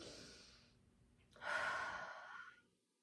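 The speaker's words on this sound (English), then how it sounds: "So you take a big breath in" A deep diaphragmatic breath drawn in through the belly during a yoga child's pose: a soft airy exhale fades, then a long, close, breathy inhalation swells and tapers away into silence.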